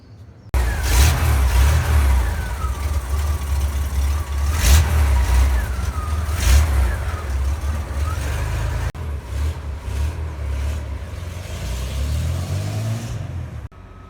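The hot-rod Highboy with its newly installed engine revs hard for about thirteen seconds and spins its tires, burning rubber. The steady, loud engine roar rises and falls in several surges with no talk.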